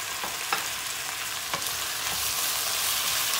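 Tomato paste fries hard in a pan, giving a steady, dense sizzle with a few faint stirring clicks, and no voices.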